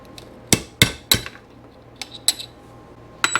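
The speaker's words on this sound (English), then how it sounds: "Just takes a little hammering." Sharp metallic hammer strikes punch a hole through metal for a DIY timing tool for a Yamaha CS5 motorcycle, with several distinct ringing blows at uneven intervals, close and loud, with no talking.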